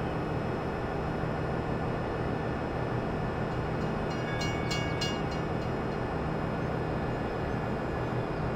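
Train rolls along steadily in the Farming Simulator 17 video game, a constant low rumble with a brief high metallic squeal or horn-like tone in the middle, unbroken and fairly loud.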